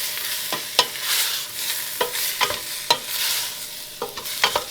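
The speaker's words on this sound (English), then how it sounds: "You can hear it starting to sizzle up a little bit, so just get everything stirred together." Vegetables for broccoli cheese soup sizzle steadily in a pot, with sharp clicks and scrapes from stirring scattered throughout; no voices.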